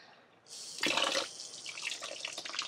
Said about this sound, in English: Rinse that out a tiny bit.